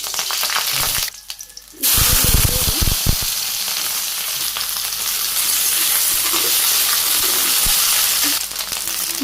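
Cumin seeds hit hot oil in a village kitchen, a brief quiet gap followed by a sudden loud burst of sizzling and popping that settles into a steady, close frying hiss.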